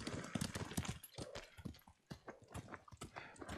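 Rhythmic horse hoofbeats clip-clopping at a steady pace in the video game Ghost of Tsushima, fairly close, with a dense bed of other game sounds and noise around them.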